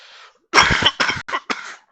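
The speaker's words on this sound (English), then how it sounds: "sorry if you going to have to hear me cough a few times" A short burst of close, loud coughing, one harsh cough followed by three quicker ones, after a faint breathy sound.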